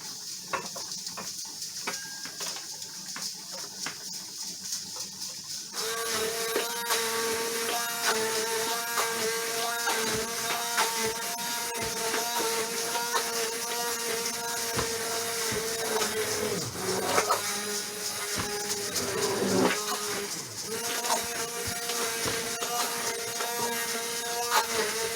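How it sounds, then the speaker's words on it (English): A kitchen blender purees cooked apples for homemade apple butter, a steady loud whirring drone that starts abruptly and runs continuously with slight shifts in pitch, with no talking. "I can blend this up and get it all nice and smooth"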